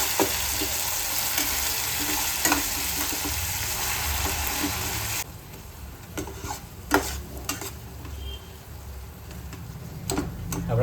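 Tomatoes and onions sizzle and fry in a pan for misal, a steady hiss that runs loud at first and then drops to a softer crackle, with intermittent stirring clicks.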